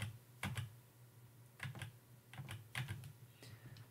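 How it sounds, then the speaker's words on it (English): A few separate clicks from pressing an arrow key on a computer keyboard, spaced across a quiet room with a low background hum, no talking. "if you click on the right arrow on your keyboard, so it will go step by frame by frame."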